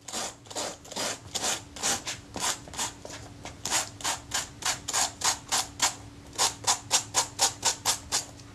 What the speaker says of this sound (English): I'll just see if I can cut the loose fibres off there with a bit of wet and dry sandpaper